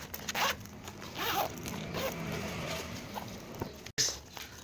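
Zippers on a one-piece sling bag being pulled open and shut, several quick rasping zips in close succession at close range, moderately quiet, with no one speaking over them.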